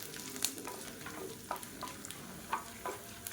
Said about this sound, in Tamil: இந்த எண்ணெயிலே நல்லா வதக்கிக்கலாம்.